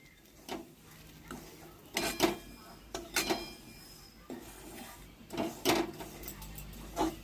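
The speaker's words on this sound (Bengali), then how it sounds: "এরপর ঘি আর সুজিটাকে ভালো করে মেখে নিতে হবে।" Semolina and ghee worked together in a bowl, heard as intermittent close scrapes and soft knocks of the mix against the bowl, in short irregular bursts over a quiet background.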